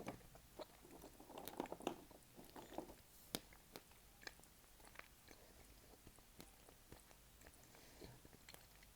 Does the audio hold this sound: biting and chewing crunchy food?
yes